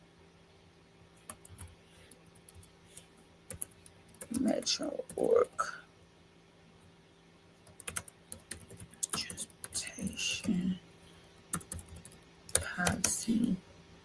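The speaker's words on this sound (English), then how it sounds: "I'm typing this down, y'all." Fingers tap out several quick bursts on a computer keyboard at a radio studio desk, close and crisp, while a voice murmurs words aloud between the typing runs.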